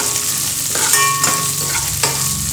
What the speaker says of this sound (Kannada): ಶುಂಠಿ ಬೆಳ್ಳುಳ್ಳಿ ಪೇಸ್ಟ್ ಹಸಿ ಅಂಶ ಹೋಗೋವರೆಗೂ ಫ್ರೈ ಮಾಡ್ಕೊಳ್ಳಿ ಚೆನ್ನಾಗಿ